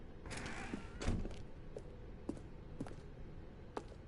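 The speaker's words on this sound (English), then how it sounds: "Stanley walked through the red door." A door creaks open in The Stanley Parable, a drawn-out creak followed by a few soft clicks and thuds from the mechanism, fairly quiet and heard alone.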